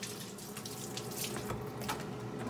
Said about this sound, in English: Okay, I have to wash my